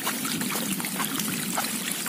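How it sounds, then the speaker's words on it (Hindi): Dirty rainwater rushes fast along a stream during heavy rain, a steady close-up wash of churning water that holds even throughout, with no voices. "देखिए दोस्तों यहाँ पर बहुत तेज से पानी आ रहा है"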